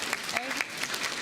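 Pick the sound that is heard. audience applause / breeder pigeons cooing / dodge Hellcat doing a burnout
audience applause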